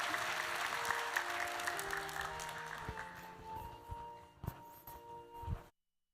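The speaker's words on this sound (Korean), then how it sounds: "우리 박수로 축복하겠습니다" Church congregation clapping in blessing during a Sunday worship service, a full round of applause over a held organ or keyboard chord that thins out into a few scattered claps before cutting off.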